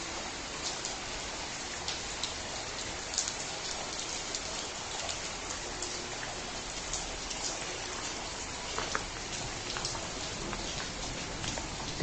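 Steady rain falling outdoors in Nganjuk, a dense even hiss of drops hitting surfaces with scattered sharper patters, continuous and fairly close, no talking over it.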